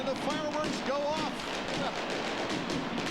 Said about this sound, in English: And the fireworks go off.